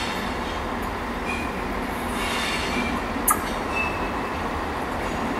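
Steam locomotive 46100 Royal Scot rolls past at Cardiff Central with a steady, heavy rumble and rattle, plus a brief metallic squeal partway through. No voices.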